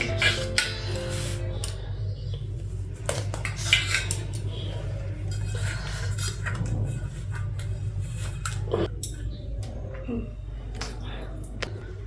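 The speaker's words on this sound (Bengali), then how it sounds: "এই যে কেকটা কাটছি" A knife cuts through a cake at home, with close scraping and tapping against the plate and cutlery clinks, while a low hum runs underneath.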